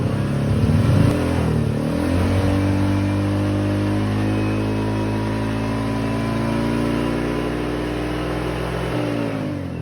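Honda Click 125 scooter engine after a remap for a lean-burning fault, revving up from idle and holding a loud, rising high-RPM drone for several seconds before dropping back, close up with no talking.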